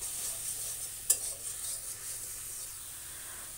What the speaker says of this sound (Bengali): এবার আমি মশলাটা ভালোভাবে কষিয়ে নেব